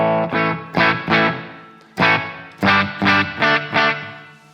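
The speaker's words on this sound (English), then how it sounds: "What you're hearing is what this guitar is doing." An Enya Inspire guitar runs through its built-in distortion and chorus effects straight into a mixer, playing a rhythmic pattern of loud distorted chord stabs in short bursts separated by brief gaps, with no speech.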